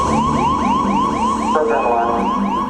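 The Apollo 11 lunar module's 1202 computer alarm during the moon landing descent, a loud repeating warbling electronic tone that cycles rapidly, shifting pitch partway through.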